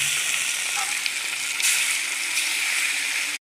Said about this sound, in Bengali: আর আমি দেখো মাছটা ভাজা বসিয়ে দিলাম